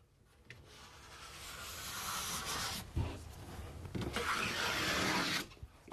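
Close, soft rubbing and scraping strokes as excess residue is wiped off a surface by hand, a few swelling swipes with brief pauses between.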